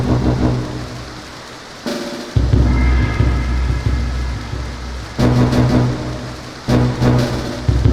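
Steady rain falls across a fen in a tactics video game, a dense hiss with bursts of heavier downpour and low rumbling swells, close and continuous, with no talk.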